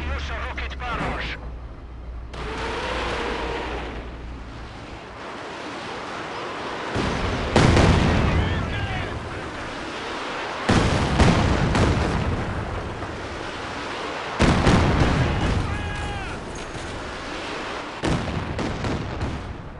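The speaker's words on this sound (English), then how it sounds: "Launch Katyusha rocket barrage." Katyusha rocket barrage in the World War II strategy game Company of Heroes 2, Eastern Front mission: a series of loud, heavy explosion bursts recurring through the span, with radio-style voices talking between and over the blasts.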